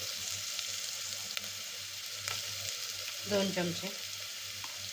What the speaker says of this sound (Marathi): चांगलं परतून घ्यायचं। तेल सुटोपर्यंत परतून घ्यायचं।